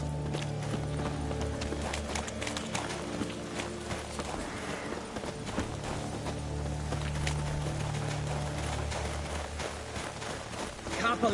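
In The Witcher 3, a large horse's hooves clip-clop in a steady running rhythm throughout, under character dialogue and background game music.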